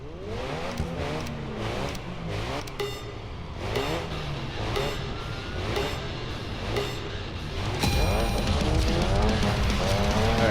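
Polestar race car driven in the Racing Master game, engine revving and shifting steadily with tire squeal through corners, loud and continuous, rising in intensity near the end.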